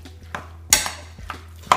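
A few light clinks and scrapes of a utensil against a bowl as shrimp ceviche ingredients are mixed, short separate knocks close by with quiet gaps between them.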